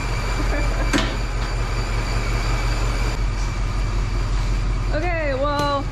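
A 1965 Chevy C10 truck engine idles steadily with a low, even rumble throughout, close by, while a voice talks briefly partway through.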